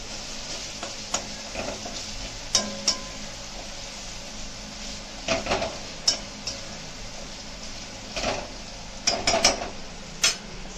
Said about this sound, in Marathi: कोथिंबीर घातली, कोथिंबीर टाकली पेस्ट मध्ये, परत मिक्स केलं जातं